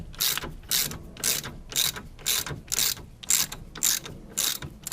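A ratchet wrench loosens a bolt on the brakes of a Dacia Duster during a disc and pad change, making about ten close, loud bursts of rapid clicking in a steady back-and-forth rhythm.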